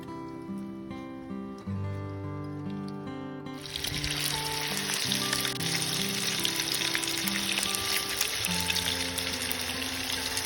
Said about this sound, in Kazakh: қуырып алатын боламыз.